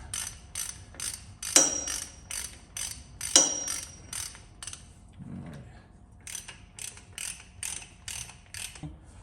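Ratcheting winch being cranked during a monster truck axle service, rapid rhythmic clicking in bursts with a couple of sharp metallic clanks and a brief pause, close and clear with no talk.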